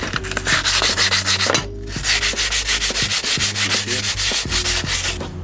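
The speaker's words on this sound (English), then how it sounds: "This is a dual action sander." A dual action sander whirs steadily with a rhythmic, pulsing scrape across a car body, briefly pausing once before resuming, close and loud.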